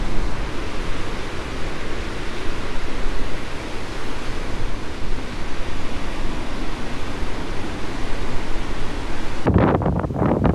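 Heavy ocean surf on a dry, windy day in Pedasi, Panama: a loud, continuous roar of crashing water mixed with wind rumbling on the microphone, steady for about ten seconds before a burst of harsher wind buffeting at the end.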